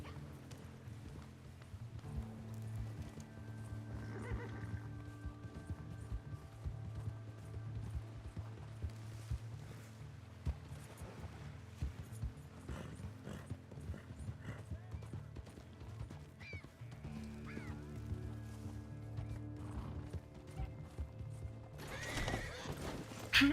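Horses in Red Dead Online clip-clop along with steady hoofbeats, joined by whinnies and neighs rising at a few moments, with faint voices talking underneath throughout.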